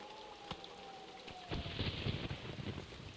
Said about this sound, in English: some nice rain is perfect for the island, though